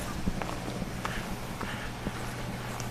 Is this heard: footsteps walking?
yes